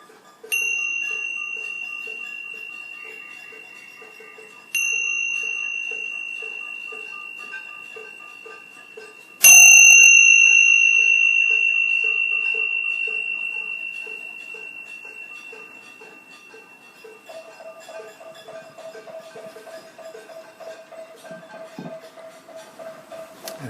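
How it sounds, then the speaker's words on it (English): Meditation bells rung to close a grounding session, three clear metallic strikes spaced several seconds apart, each ringing out with a long fading tone, followed by a softer lower sustained ring. "I'm going to ring the bells just to"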